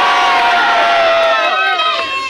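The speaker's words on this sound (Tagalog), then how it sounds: "Sa kanan ko, sumigaw kung gusto nyo manalo si Bullet!" A large crowd at a rap battle in a sports complex in Las Piñas shouts and cheers loudly and steadily, a dense roar of many voices with higher yells rising over it throughout.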